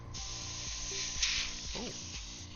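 An airbrush or spray can hisses steadily while applying a gold overlay coat to a Gundam model kit, a close, even spray running throughout with faint background hum.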